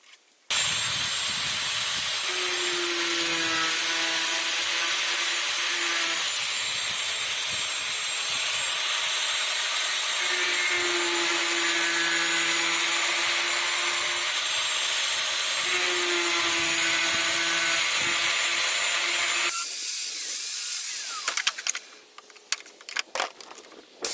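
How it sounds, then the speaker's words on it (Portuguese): An angle grinder cuts holes in a pipe with a loud, continuous, high-pitched whine and hiss for about twenty seconds, its pitch dipping slightly under load in places, before winding down into scattered clatters. "Comecei por fazer a marcação das aberturas no tubo e depois abri os buracos com uma rebarbadora"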